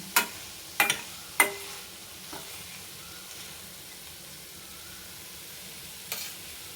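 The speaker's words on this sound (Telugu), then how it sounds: "ఇప్పుడు పసుపు వేసి బాగా కలపాలి" Turmeric stirred into cowpea curry with ginger and spice in a frying pan: a few sharp spoon scrapes and taps early on, then a quiet, steady sizzle with one more clink near the end.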